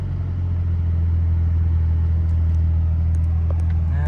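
A 2000 Nissan Skyline R34 in Bayside Blue idles with a steady low engine rumble, close and continuous, with a faint sputter as the throttle is released.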